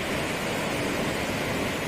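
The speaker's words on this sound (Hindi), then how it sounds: "और समुद्र की गर्जना" Ocean waves at Edawa Beach make a steady, broad roar with cool water and children surfing nearby, a continuous wash of surf heard alone without talk.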